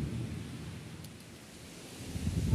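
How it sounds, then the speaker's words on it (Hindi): Heavy wind and rain at a village field make a low, rumbling roar as gusts buffet the microphone, faint overall and swelling slightly at the end. "ये देखिए कितनी ज़्यादा बारिश, हवा लगी हुई है"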